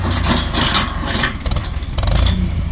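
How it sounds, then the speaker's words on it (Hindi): Farmtrac 6055 Super Max T20 tractor engine pushing a dozer blade, a loud, rough, pulsing diesel rumble with uneven bursts of load, close by and without talk. "डोजर में चल रहा है साठ पचपन सुपर मैक्स"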